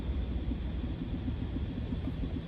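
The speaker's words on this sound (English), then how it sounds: "the deafening noise of the highway, of all the vehicles just go" Steady highway traffic from four lanes of vehicles makes a continuous low rumble with soft passing swells, heard from inside a parked RV, fairly faint and without voices.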